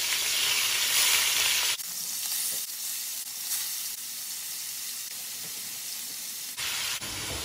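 Shawarma meat frying in oil in a pan, a loud continuous sizzle and hiss, close up, shifting in intensity as the meat settles, with no talk.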